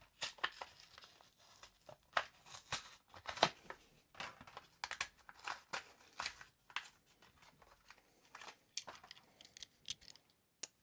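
Plastic blister packaging of a Matchbox Bugatti toy car being torn and opened up close, soft crinkling, crackling and tearing noises in irregular bursts, fairly quiet, with no one talking.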